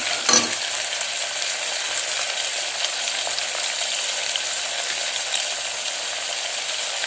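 Green peas frying in hot tempering oil for tomato rice give a steady, close sizzle with faint scraping clicks and one brief louder burst near the start.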